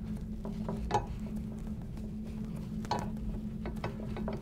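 A cap heat press being locked into place, soft mechanical clicks and ratcheting clunks from the closing mechanism over a steady low hum, fairly close and quiet.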